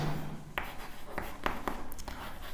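Pen scratching on paper during a Class 10 maths lesson, a run of short quiet strokes and taps at an uneven pace, close and soft.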